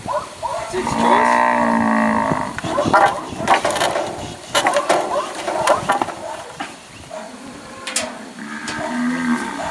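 Weaner cattle in yard pens being moved through force pens and a race, lowing loudly and repeatedly, with clanks and shuffling from the yard between calls.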